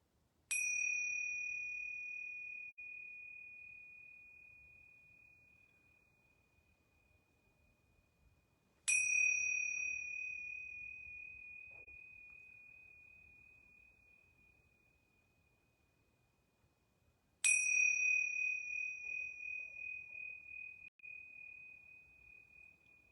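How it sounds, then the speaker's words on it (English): Yoga bells struck three times at even intervals of roughly eight to nine seconds during a quiet class, each a clear, pure ding that rings out and slowly fades to near silence before the next strike. "I'm going to ring these yoga bells 3 times."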